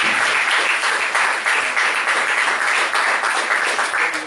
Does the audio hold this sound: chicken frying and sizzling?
no